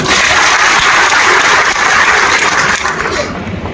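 An audience at a Marathi political gathering claps for Dr. Amol Kolhe: a dense, loud wall of applause that carries on steadily and then thins slightly toward the end.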